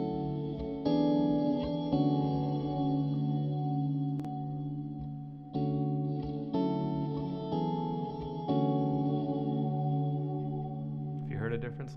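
Sustained electric guitar chords played through the delay of an Axe-Fx III processor, repeated several times with clear echo tails ringing between strikes, loud and heard without talk.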